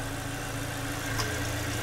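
A 2015 Mazda 3 with a 1.5-litre four-cylinder fuel-injected engine idles with a steady, low hum and faint vibration, heard close and without voices.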